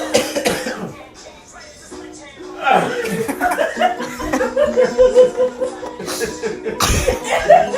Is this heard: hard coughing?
yes